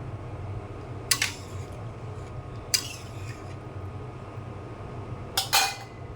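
A lid goes onto a cooking pot of goat meat with hot water, making three separate sharp metallic clinks spaced a second or more apart over a low, steady background hum, with no talking.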